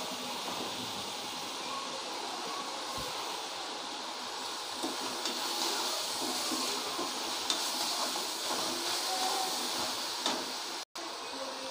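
Onions fry with salt in a pan for a chana dal tomato kurma, giving a steady, close sizzling hiss that runs unbroken with no talking.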